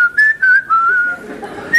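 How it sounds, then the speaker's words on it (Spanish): A loud, close whistled tune of a few wavering notes in short phrases, a pretend bird whistling in a television animal segment, heard alone without talk. "El pajarraco disimula, gira y empieza a silbar"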